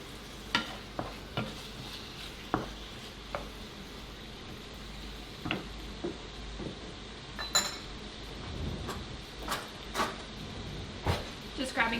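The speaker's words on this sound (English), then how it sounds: "Just grabbing another spoon because I don't want to cross-contaminate." A spoon clinks against a bowl while cold-roll dipping sauce is mixed in a kitchen: sharp, scattered metallic taps under and between bits of talk, with some soft stirring noise.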